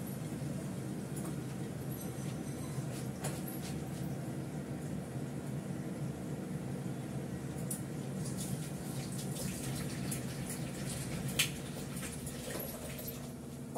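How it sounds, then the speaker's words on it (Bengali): Water pours steadily into potted tulsi plants, a continuous soft splashing and trickling at moderate distance with no voices. "তুলসী গাছে টবে জল দেবো"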